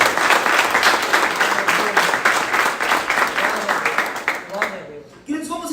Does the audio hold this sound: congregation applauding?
yes